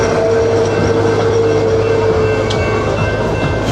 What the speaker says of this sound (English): The train, yeah!